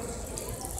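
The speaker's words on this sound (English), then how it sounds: "Turn on the water!" Water runs from a tap in a home: a brief, faint, steady rush of flow.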